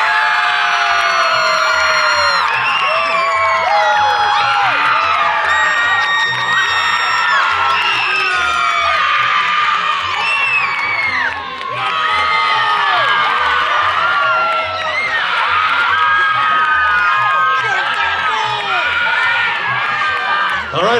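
A loud costume-contest crowd cheers, whoops and yells without pause for a Roller Derby Dads group at a Halloween event in Temecula, with children's shouts mixed into the dense, sustained roar.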